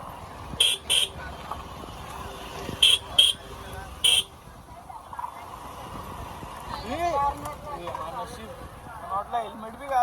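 Busy road traffic on the way out after a temple visit, with several short horn toots in bursts over a steady engine rumble, and voices talking nearby throughout.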